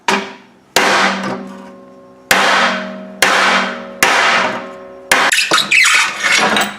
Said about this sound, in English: We'll take a sharp hammer and set it in here